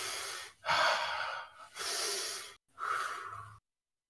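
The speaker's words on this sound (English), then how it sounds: "Make sure you're breathing." Deep, deliberate breaths during a guided breathwork exercise: four long, forceful inhales and exhales, close and fairly loud, separated by brief pauses, with no talking.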